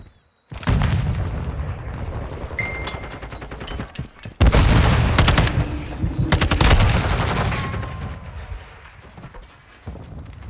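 Repeated gunfire from a multiplayer Hardpoint match in Call of Duty: Modern Warfare II, loud bursts of automatic shots and booming impacts close up, with heavy volleys clustered in the middle and end.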